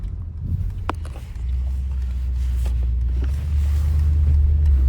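A Mercedes-AMG GT63S launches from a standstill, its engine rising into a loud, steady low rumble that heard from inside the car holds and grows stronger over a few seconds.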